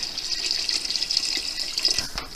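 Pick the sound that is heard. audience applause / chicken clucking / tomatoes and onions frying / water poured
water poured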